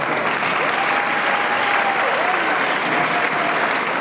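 Dense, steady applause from a large audience at the 2019 Matawan Aberdeen high school graduation ceremony, continuous broadband clapping filling the hall without a break for the whole stretch.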